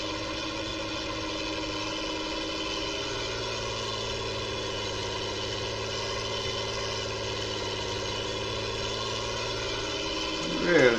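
A Ford TW35 tractor idles steadily nearby, its engine holding a constant rumbling drone with strong harmonic tones for the whole stretch, briefly surging louder at the very end.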